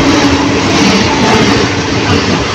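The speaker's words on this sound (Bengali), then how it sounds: "আমাদের ট্রেন ঢুকছে এই মুহূর্তে ব্যারাকপুর স্টেশন।" The Dhano Dhanya Express train rolls into Barrackpore station with a loud, steady broadband roar of wheels and carriage, close and continuous throughout with no voices.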